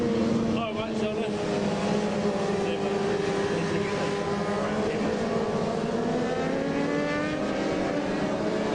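Race cars at a motor race meeting at Wanneroo set off in a loud, steady engine roar, with pitch climbing as they accelerate and a faint crowd or voice layer beneath.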